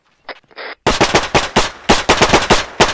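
Rapid, loud bursts of automatic cannon fire in a World War II Operation Market Garden military video game, close and rattling in quick repeated volleys.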